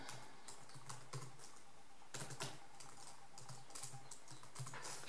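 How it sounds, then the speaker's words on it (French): Fingers tap out a web address on a computer keyboard in quick, uneven bursts of clicks, close up and fairly quiet, with no talking. "On va taper l'adresse."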